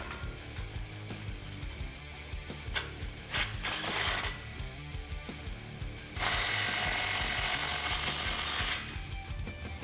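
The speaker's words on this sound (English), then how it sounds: "Grab your 15 socket and tighten down that clamp." A ratchet with a 15mm socket tightens the driver's-side exhaust clamp at the end of the X-pipe on a 2011-2014 Dodge Challenger 5.7L, producing close, repeated ratcheting clicks that turn into a longer continuous rasp of rapid strokes.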